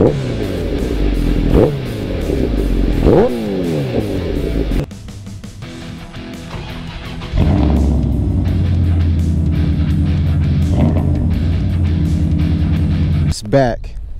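A motorcycle engine idles and is revved up sharply several times, rising and falling in pitch, loud and close throughout.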